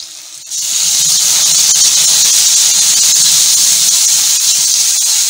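Yogurt and spices hitting a hot pan with green chillies, a loud sudden sizzle that bursts in after a quiet moment and holds as a steady, strong hiss.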